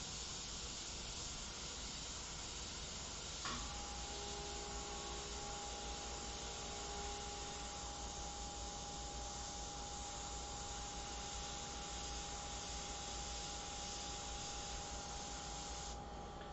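Airbrush spraying mid-tone skin paint on a full-color fashion portrait, giving a steady, continuous airy hiss that runs unbroken throughout, with a faint tonal whine from the compressor or airflow in the background.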